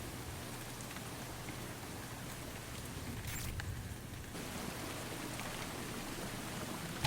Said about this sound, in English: a land lit by moonlight and sodden by rain